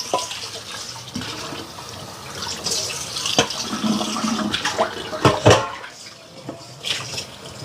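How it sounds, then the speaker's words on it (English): Tap water splashes into a bowl being rinsed at a kitchen sink, an uneven running gush with clatter and a few sharp knocks of dishware, close and fairly loud. "Let me rinse off that bowl."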